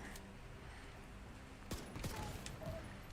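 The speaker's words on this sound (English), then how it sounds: "That was a grenadier, so that person just exploded because they have a grenade pouch" Sudden explosive bursts in a video game as a grenadier's grenade pouch detonates, a sharp blast followed by a second crackling burst and scattered debris over steady background game noise.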